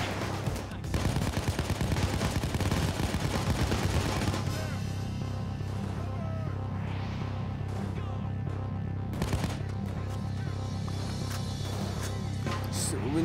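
Sniper fire and other gunshots in a Nintendo Switch video game, loud and continuous, with dense rapid bursts over a low engine-like rumble that thin out into scattered shots.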